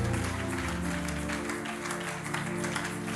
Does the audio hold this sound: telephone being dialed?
no